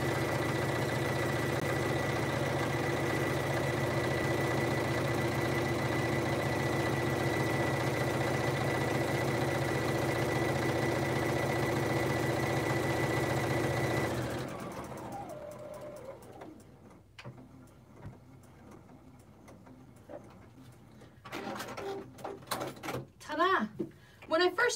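A sewing machine stitches a pillowcase with a steady mechanical hum for about fourteen seconds, then stops, leaving quiet clicks and handling noises and a voice talking.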